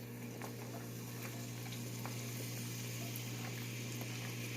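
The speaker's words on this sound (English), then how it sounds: "We're going to saute the onions and peppers a little bit." Onions and peppers sauté in a cast iron pot over medium heat, giving a steady, low, even sizzle with a constant hum behind it and occasional faint clicks.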